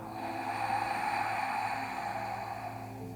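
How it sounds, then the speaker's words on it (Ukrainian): During yoga breathing practice, a deep inhale and soft exhale sound as a close, steady breathy hiss that swells and eases over a few seconds, with no talk. "відслідковуємо свій повний глибокий вдих і м'який видих"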